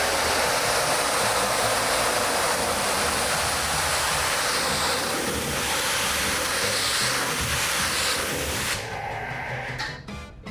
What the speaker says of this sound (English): And spraying into the stream of the pressure washer. Let me demonstrate on this fender here.